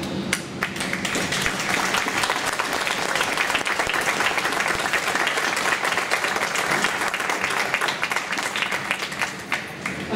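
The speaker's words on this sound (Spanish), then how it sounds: "Yo sí pido un aplauso para él" Sustained, dense applause from a large crowd at a food and culture event in Nariño, Colombia, steady and loud throughout with no voices rising above it.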